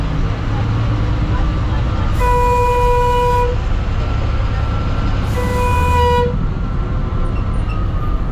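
A train horn near Egmore railway station in Chennai sounds two long, loud, steady blasts separated by a short gap, over constant city street and traffic rumble.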